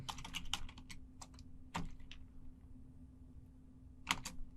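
Command typed on a computer keyboard in a short quiet burst of clicky keystrokes, then a pause and a single key press, with a few more taps at the end.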